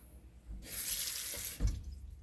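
Tap water runs briefly into a cooking pot to cover chestnuts, a loud hissing gush of about one second that cuts off abruptly with a small thud, then quiet.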